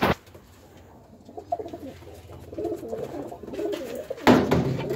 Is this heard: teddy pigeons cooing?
yes